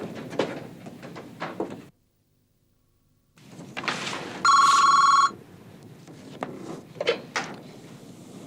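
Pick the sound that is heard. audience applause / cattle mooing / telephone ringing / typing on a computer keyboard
telephone ringing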